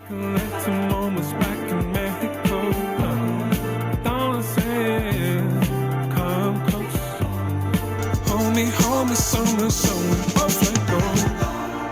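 Music with singing and a steady beat through earbuds, sounding dull and muffled with the treble frequencies cut away, played continuously at moderate volume.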